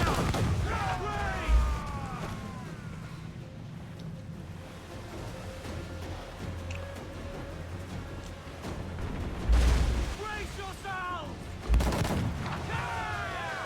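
Ship cannon broadside fire in Assassin's Creed IV: Black Flag, heard as heavy low booms at intervals over constant sea and battle noise, with people talking over most of it.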